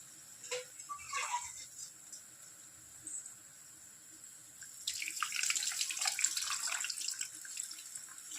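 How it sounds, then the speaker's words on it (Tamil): Dissolved tamarind water is poured into a pepper curry, a faint splashing trickle that starts softly and swells into a steadier pour near the end, quiet and close with no talking. "கரைச்சி வச்சுக்கிற புளி தண்ணியை எடுத்து ஊற்றிக்குவோம்"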